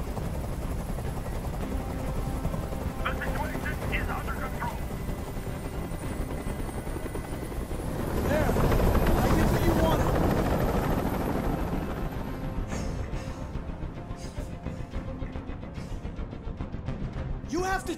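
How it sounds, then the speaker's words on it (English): Helicopter hovering overhead in the video game Detroit Become Human, a loud continuous rotor drone that swells in the middle, with faint game sounds and brief voices over it. "I can't stand that noise anymore. Tell that helicopter to get out of here."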